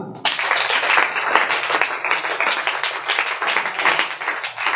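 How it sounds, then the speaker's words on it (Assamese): Audience applause at a school programme in Jorhat, dense sustained clapping from a large crowd beginning abruptly and holding steady throughout, loud and close. "তাৰ কাৰণে এটা ডাঙৰ তালিয়া।"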